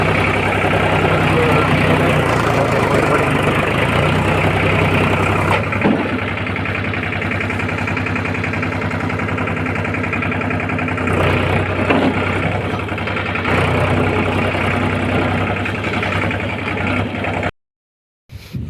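A tractor engine idles steadily with a low, continuous rumble while stuck in mud on a farm field, holding a fairly even level throughout before cutting out briefly near the end.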